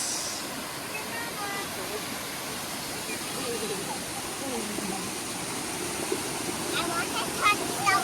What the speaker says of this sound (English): We went to the waterfalls.